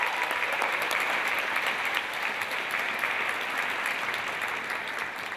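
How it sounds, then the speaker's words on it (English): An audience at a university convocation applauds steadily, a dense, sustained clapping that fills the hall at moderate volume and tapers slightly toward the end. "So one more round of applause to you."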